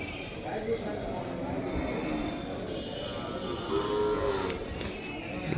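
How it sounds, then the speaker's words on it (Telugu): Ongole cattle low and moo at a busy Sunday livestock market in Kodada, their calls rising over a steady wash of crowd noise and voices that persist throughout. "దూడలు ఇవి కూడా బాగున్నాయండి."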